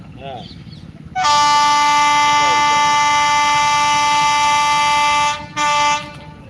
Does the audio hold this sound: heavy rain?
no